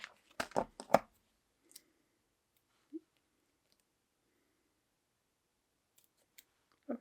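Scissors snipping a paper sticker for a weekly planner: a quick cluster of sharp close cuts at the start, then a few isolated faint clicks in a quiet room, no speech.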